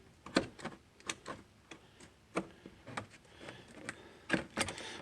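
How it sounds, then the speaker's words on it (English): Irregular scraping and ticking clicks from a blade shaving excess plastic off a laundry basket handle during a repair, close and dry, in uneven bursts with brief pauses. "You go ahead and just kind of shave it off carefully."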